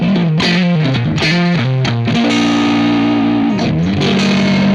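Stratocaster electric guitar with the volume rolled back to about seven, giving a slightly cleaner but still gritty, distorted tone as a fluid run of sustained notes and bends plays continuously and loud.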